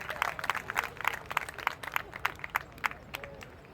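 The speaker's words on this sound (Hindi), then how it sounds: "एक बार हमारे ऐसे जिलाध्यक्ष के लिए जोरदार तालियां" Applause from a crowd at a political rally, honoring a district president, with rapid irregular claps that rise and fall over a few seconds at moderate distance.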